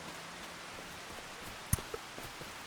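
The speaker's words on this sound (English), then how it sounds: "It's been raining since late last night, so that's helpful, right?" Rain falls in the Farming Simulator game, a faint, even hiss of drizzle with a few scattered drop ticks and one sharp click, steady and quiet with nobody speaking.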